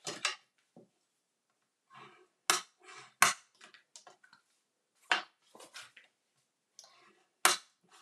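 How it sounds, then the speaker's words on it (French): Paper folds are creased against a glass plate, giving sharp, dry scraping strokes in separate bursts with pauses between them, close up and without talk. "je sais que ça fait un petit peu de bruit sur la plaque en verre"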